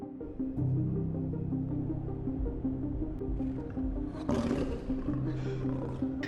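A tiger roars in a film scene with low, drawn-out growling roars under a dark rumbling soundtrack, moderately loud, and a sharper burst of noise near the end, with no talking.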